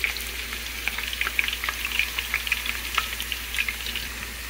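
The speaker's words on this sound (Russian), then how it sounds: "Вот она поджаривается" Potatoes frying in hot oil inside a kazan give a steady crackling sizzle with dense popping bursts of spatter, close and moderately loud, with no voices.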